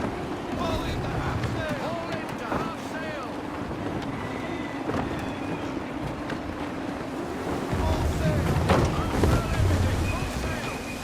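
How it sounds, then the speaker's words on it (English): Gusty wind buffets a sailing ship at sea in Assassin's Creed III, a steady rushing roar with swelling gusts and wave wash, rising louder near the end. "Gusty winds can be difficult to manage."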